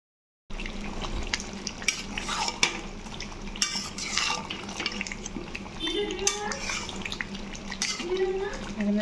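Chicken meat sizzles and fries in a pan while being stirred, with a steady frying hiss, a scraping spatula and intermittent clinks and knocks of utensil against the pan, close and moderately loud, no talk.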